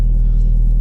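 A Seat Leon Cupra Mk2 engine idles while warming up after sitting unused for hours, a steady, close, low rumble that holds even and unbroken throughout the short moment.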